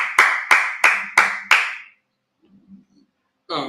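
Five sharp, evenly spaced claps from a congregation at a Day of Atonement service, each ringing out briefly, followed by a short quiet pause with a faint low sound and a voice starting at the end.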